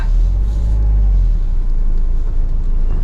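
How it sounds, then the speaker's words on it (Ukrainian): A high-clearance car driving over rough, scrubby off-road ground, a loud, close, continuous low engine rumble with steady road noise throughout, no voices. "Добре, що машина висока, має запас кліренсу можна їздити трошки по таких всього корчаху"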